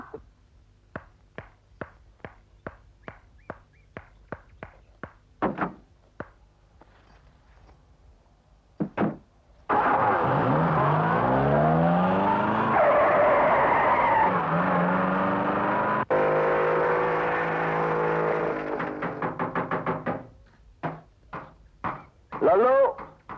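A car in a Hindi action film revs and speeds off with tires squealing: sharp knocks and clicks come first, then a loud roaring screech with swooping tones for several seconds, followed by more scattered clicks.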